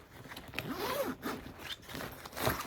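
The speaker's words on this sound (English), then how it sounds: "2 zippers, one on this top end right here." A zipper on a Dooney & Bourke handbag is pulled open in a few quick, close, scratchy strokes, with no talking.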